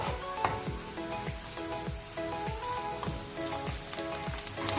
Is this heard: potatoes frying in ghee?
yes